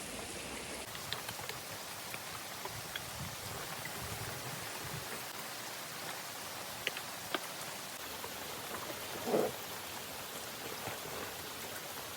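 Steady rain falls through a jungle under a cloudy sky, a dense even hiss of drops with a few sharper drips and knocks near the listener, continuing without a break and with no talking.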